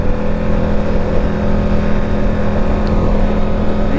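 A 2026 Harley-Davidson Street Glide 135 motorcycle engine revs hard toward redline in first gear, a loud, close, steady drone with a slight rising pitch near the end.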